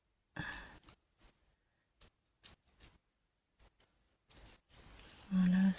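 Scissors snipping paper for a pocket letter craft, a few short separate cuts with gaps of near silence between them, close and fairly quiet, ending with a brief louder rustle.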